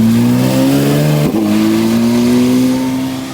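A Porsche GT3 at a supercar meet revs loud and close, its engine note climbing steadily, dipping briefly with a quick shift or blip, then rising and holding before easing off at the end.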